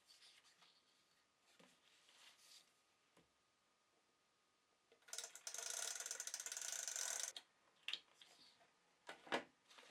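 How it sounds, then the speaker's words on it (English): A tape gun pulls out a long strip of tape for a paper book cover, a loud ratcheting, rasping burst of about two seconds. Faint handling clicks and rustles come before and after it. "And I'm going to use my tape gun."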